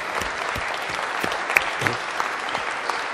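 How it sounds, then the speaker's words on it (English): An audience claps for children's singing at a church gathering, a dense, steady round of applause that carries through the whole moment at moderate loudness. "Shall we give them another round of applause for their singing?"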